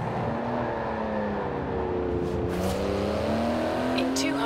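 Porsche GT2 RS with a titanium exhaust in Forza Horizon 4, its engine revving and climbing steadily in pitch as it accelerates, with a brief whoosh midway and talk over the top.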